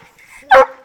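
Dog barking once, a single short loud bark close by after a faint whine.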